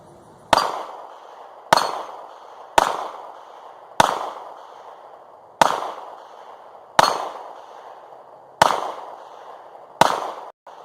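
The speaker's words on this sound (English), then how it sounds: "going to shoot a few rounds with it" A Smith and Wesson Shield 9mm pistol fires eight sharp, loud shots at an uneven pace about a second apart, each crack trailing a short ringing echo, with no voices.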